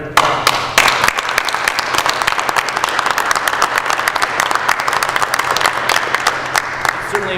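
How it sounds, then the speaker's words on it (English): Town hall audience at Emporia State University applauding a speaker, a loud, sustained round of crisp clapping from a crowd, steady throughout with a few sharper claps standing out. "Let's give Katrina another round of applause."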